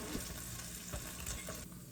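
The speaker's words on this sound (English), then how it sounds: "right now the egg is frying" An egg fries in a pan with a steady sizzle filling the whole stretch, a dense continuous crackle with occasional sharper pops, close and fairly even in loudness.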